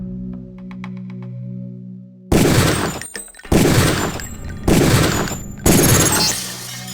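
Four loud, sharp pistol shots from the training range in the game Deus Ex, evenly spaced about a second apart, each with a short ringing tail, preceded by quiet tonal ambience.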